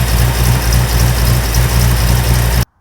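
The engine of a 1965 Buick Riviera runs at a loud, steady idle close by with a deep rumbling pulse, then cuts off abruptly just before the end.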